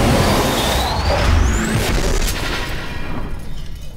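Missiles launch in a sci-fi film battle scene in Elysium: loud rushing whooshes with a rising streak of sound, deep rumbling booms and crackling debris, dense and fading toward the end.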